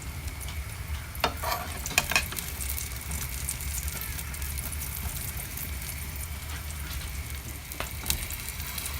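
A bread omelette fries in a pan with a steady sizzle and crackle, joined by a few sharp scraping stirs and taps, close and continuous with no talk.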